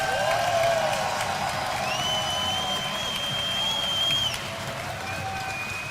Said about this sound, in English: The crowd is behind him.